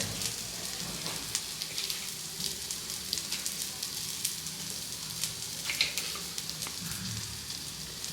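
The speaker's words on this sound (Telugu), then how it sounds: "ఆల్మోస్ట్ ఫిష్ కూడా ఫ్రై అయిపోయింది కదండి" Andhra style fish fry: fish pieces sizzling in hot oil in a pan, a steady crackling fry with scattered sharper pops, close and continuous.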